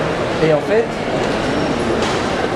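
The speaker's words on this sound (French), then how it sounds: "on a pris le RER à Paris" An RER commuter train in Paris rumbles with a steady, loud onboard hum and rattle while a person talks over it.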